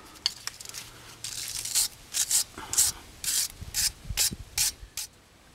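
Short repeated bursts of aerosol brake cleaner spraying onto the rear brake caliper of a Renault Scenic 3, about a dozen close hissing blasts in an irregular rhythm with a faint scrubbing rub between them.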